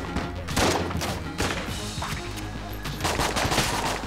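Rapid bursts of gunfire from the Enter the Gungeon video game, dense clustered shots recurring through the clip with thumping impacts over a busy game soundtrack.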